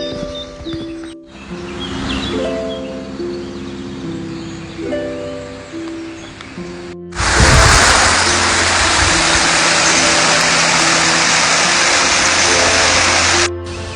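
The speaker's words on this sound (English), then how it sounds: "Just listen to the bird song and the rushing of the river." Birdsong over a rushing river on a countryside nature walk, with tonal chirps in the first half giving way to a loud, steady broadband roar of flowing water close by that runs unbroken for several seconds.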